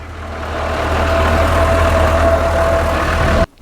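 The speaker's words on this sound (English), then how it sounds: "as you guys have heard, the engine does run" An M151A1 military jeep engine running at a steady idle, a loud low rumble with a faint whine, which cuts off abruptly at the end.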